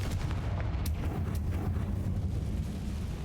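A Confringo blasting curse in Hogwarts Legacy sets off a steady, dense rumble of booming explosions, loud and close, with sharp cracks scattered through it and no talking.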